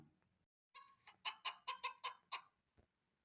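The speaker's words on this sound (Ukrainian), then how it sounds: "Так це ж квохче курка." A hen clucks in a quick series of about seven rhythmic, nasal calls, close by in a quiet setting, followed by a faint final cluck.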